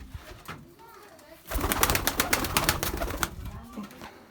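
Tumbler pigeons in a cramped loft give off a burst of cooing and fluttering, close and busy for several seconds after a quiet start, with faint voices in the background.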